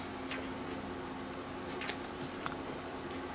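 Scissors snipping away the excess double-sided adhesive sheet while trimming a glittered border, a few soft crisp cuts close by over a steady background hum.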